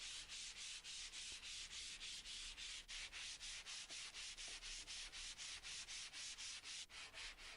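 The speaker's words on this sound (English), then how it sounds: "Then I gave it a light sanding down." Steady rhythmic sanding strokes on chipboard, a continuous gritty rasp pulsing back and forth at an even pace, close and fairly loud with no talking.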